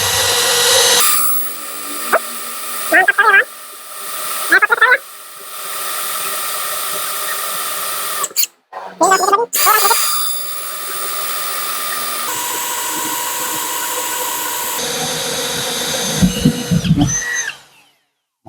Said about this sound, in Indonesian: Untuk mengebor dengan mata bor kecil sangat mudah ya.